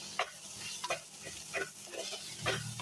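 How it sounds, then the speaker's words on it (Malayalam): Crushed ginger, garlic and green chilies sautéing in a pan, a constant sizzle cut by four or five sharp spatula scrapes, close and without any voices. "ഇനി ഇഞ്ചി വെളുത്തുള്ളി തല്ലിയതും പച്ചമുളകും ഇടാം. ഇതിൽ നന്നായിട്ട് വഴറ്റുക."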